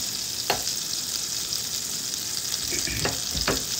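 An omelette fries in butter in a pan, with a soft continuous sizzle broken by a few sharp clicks and scrapes near the end. No one speaks.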